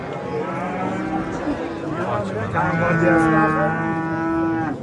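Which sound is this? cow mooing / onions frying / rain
cow mooing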